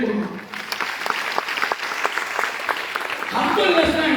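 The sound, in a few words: audience applause at an event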